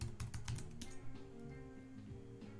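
A password being typed on a computer keyboard: a rapid run of close, crisp key clicks that tapers off into a few softer presses.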